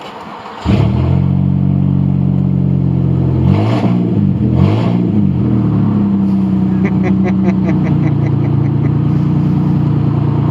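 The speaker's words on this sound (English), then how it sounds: "I'm running open headers right now on my car." A car running open headers fires up and revs loudly up close, producing a harsh, raspy exhaust roar with rising and falling engine pitch, then settles into a rough, loud idle with a rapid rhythmic burble.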